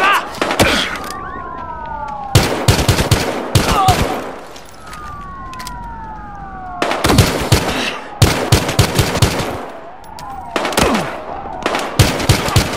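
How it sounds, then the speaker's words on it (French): Gunfire in the video game Battlefield Hardline, loud automatic bursts that stop and start in clusters over wailing police sirens, with quieter stretches of rumble between the volleys. "Y a quelqu'un qui tire!"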